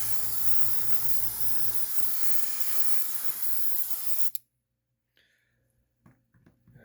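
An airbrush sprays black paint in one continuous close hiss lasting about four seconds, then cuts off abruptly, leaving faint handling noises and near silence.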